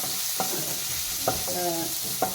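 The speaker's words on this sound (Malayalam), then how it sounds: "ഉണക്കമുളകൊന്ന് ചൂടായി വരുമ്പോൾ നമുക്കതിലേക്ക് ചെറിയുള്ളി അരിഞ്ഞ് വെച്ചതും വെളുത്തുള്ളി അരിഞ്ഞ് വെച്ചത് ഇട്ട് കൊടുക്കാം" Chopped shallots and garlic frying with dried chillies in hot oil: a steady sizzling hiss, close up, with a few sharp stirring clinks against the pan and a faint tonal hum underneath.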